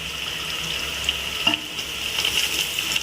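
Green chilies, mint and coriander sautéing in a pan for prawn biryani, giving a steady soft sizzle with light stirring scrapes; no one speaks.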